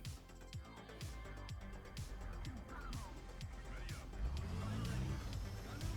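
A Leopard 2A4M CAN tank on a video game test drive, its engine rumbling and revving with rising and falling pitch sweeps, moderately loud and building toward the end.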